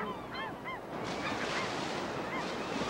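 Scavenger seagulls call along a river where bears gather, their honking cries repeating several times over a constant rush of water and wind, moderately distant and without any talk.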